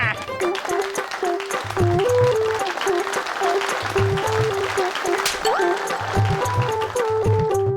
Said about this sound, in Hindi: मानव, मेहर और बल्लू के लिए एक बार फिर से जोरदार तालियां